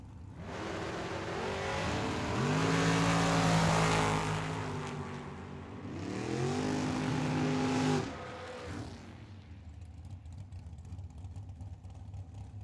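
Two drag-racing cars, an 84 Camaro and a dragster, launch at Tucson Dragway with loud, roaring engines that build over several seconds, dip briefly, then roar again before fading into distant crowd and track noise.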